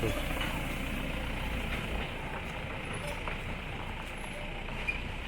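A farm vehicle loaded with cut grass in Kumbhavade, Rajapur, Konkan, engine rumbling steadily as it pulls away, while someone talks over it.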